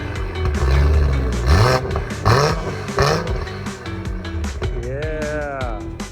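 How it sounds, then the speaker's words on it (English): A wrecked 2023 Toyota Supra sitting in neutral gets its engine revved in several sharp, loud bursts that rise and fall. Voices talk over and between the revs. "rev it up!"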